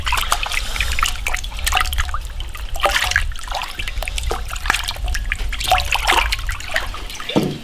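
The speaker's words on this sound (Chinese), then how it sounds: "先把豆腐来洗一下。" Running water trickles and splashes as tofu is washed by hand, a continuous close stream broken by irregular splashes and small clatters, with no one talking.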